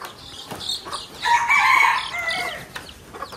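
Close, loud clucks from native chickens surround a rooster's crow in the middle, with scattered short squawks before and after.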